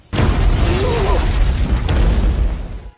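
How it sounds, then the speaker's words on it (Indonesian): A bomb blast in a gangster film against the yakuza, one loud, close, rumbling explosion that sustains for about three seconds before cutting off. "Akan tetapi mereka terlambat dan ledakan sudah terjadi."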